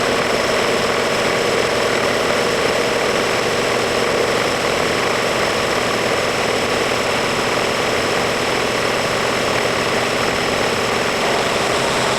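A milling machine runs in a workshop while parts are made for a snowmobile tunnel extension. It gives a loud, steady, dense mechanical drone that holds unchanged for the whole stretch, with no voices over it.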